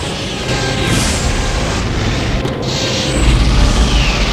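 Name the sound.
spaceship weapons firing in the video game FTL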